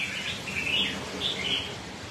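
Small songbird of Huế stock, a premium bird, sings in short bright high chirping bursts, fairly close, with a steady hiss of background noise beneath and no voices.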